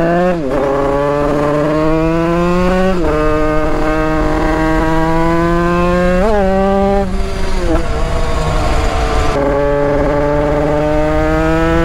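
A 100cc two-stroke 2Fast motorcycle rated at 35 horsepower screams close and loud, its whining pitch climbing through repeated accelerations with brief dips between gear changes, buzzing continuously throughout.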